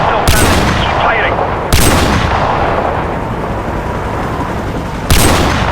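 Heavy booming gunfire from the video game Call of Duty Modern Warfare 3 in a rainy night mission, three loud blasts spaced apart over a dense, roaring rain-and-noise background.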